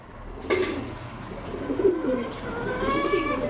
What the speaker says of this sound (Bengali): এ দেখুন এটা ওড়া পায়রা আছে